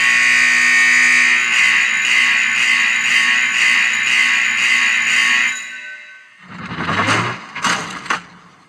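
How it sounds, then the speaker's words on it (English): A loud Ghostbusters containment unit prop sound effect, strong enough to shake a table, blares a steady buzzing alarm-like tone for several seconds before cutting to a few sharp bursts, played alone without talk. "And here's the loud one. It makes the whole table shake."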